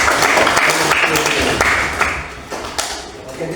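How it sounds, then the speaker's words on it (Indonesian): Classroom applause after a religion lesson on worship and church, dense clapping from many hands filling the room for a few seconds and tapering off near the end. "Oke, tepuk tangan dulu."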